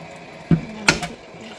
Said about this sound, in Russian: Сейчас включу воду.